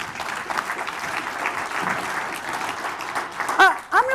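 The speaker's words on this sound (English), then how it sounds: "Let's clap for the boomers." A keynote audience at a Denver summit breaks into sustained, close applause, with a voice rising over the clapping near the end.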